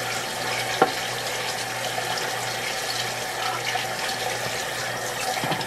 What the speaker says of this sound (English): I'm gonna cool off the shrimp with cold water.